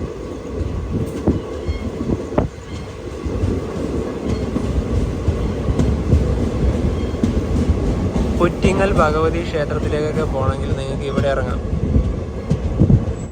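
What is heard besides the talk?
Maveli Express train arriving at Varkala Sivagiri station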